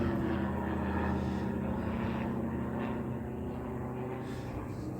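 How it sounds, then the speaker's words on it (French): Propeller aircraft passing overhead above a beehive apiary, a steady broad drone that stays loud and continuous throughout, with no voices. "Alors quelques avions là."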